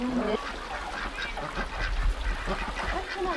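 Ducks near a stream in a Korean mountain village, giving repeated honking, goose-like calls close by over steady running water and outdoor ambience.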